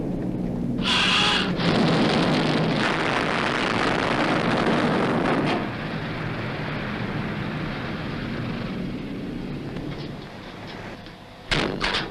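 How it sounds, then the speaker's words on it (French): An airplane flies overhead in a wartime submarine film set off Corsica, making a loud, sustained broadband roar that slowly fades over about ten seconds before a sharp thud at the end. "Avion!"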